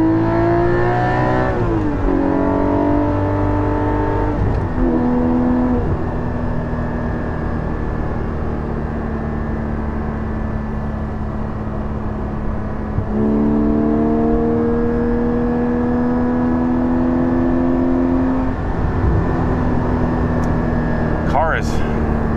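A Porsche 718 GT4 with a Soul Performance rear exhaust section on a quick drive, its mid-mounted engine droning steadily and climbing through repeated rising revs between shifts, loud and close throughout.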